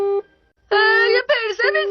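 Electronic telephone tones in a Hindi-dubbed Doraemon cartoon, with a short beep followed by a pause and then a run of loud, slightly shifting tonal bleeps typical of dialing and a busy line.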